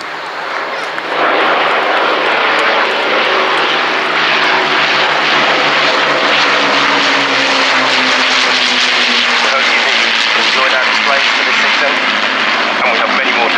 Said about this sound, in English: the Lancaster, Hurricane and Spitfire come past for the BBMF's memorial flight